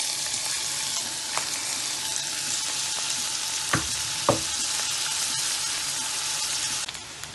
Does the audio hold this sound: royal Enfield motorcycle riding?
no